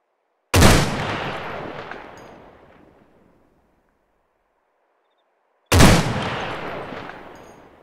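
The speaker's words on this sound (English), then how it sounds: "I'll fire a couple more rounds just to demonstrate what I'm talking about" Two rifle shots in the video game Arma 3, each a sharp loud crack followed by a long rolling echo that fades over a few seconds, spaced about five seconds apart.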